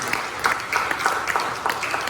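Continuous applause from a church congregation during a Sunday service, a steady wash of many hands clapping at moderate volume with no voices over it.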